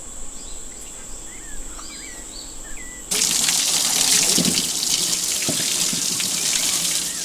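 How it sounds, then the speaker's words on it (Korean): An orangutan washes itself under a running water tap: after a few quiet seconds with faint birdsong, the tap suddenly gushes loudly and steadily, with splashing as water hits its body. "수도꼭지를 틀고 몸을 씻는다."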